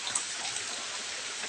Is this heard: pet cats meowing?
no